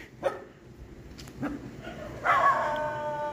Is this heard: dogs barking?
yes